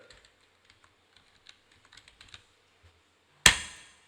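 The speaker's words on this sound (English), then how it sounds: "head to the search icon and type Narrator" Laptop keyboard being typed on into a Windows search box, a short sequence of soft, sparse key taps close by, ending in one sudden loud sharp click or tone.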